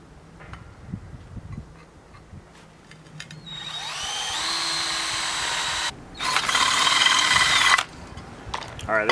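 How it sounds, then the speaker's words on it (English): A power drill bores a hole through a steel target-stand plate, whining at high pitch in two close bursts with a short pause between, then spinning down, with small clanks of handling before and after. "So we're going to drill a hole through the second one here."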